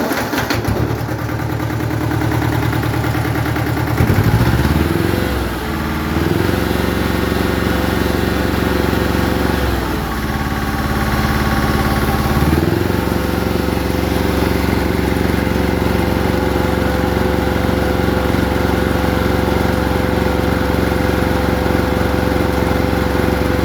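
Yanmar diesel engine running steadily near the listener, its idle dipping and recovering several times with a steady low drone and clattering mechanical noise, alone without talk.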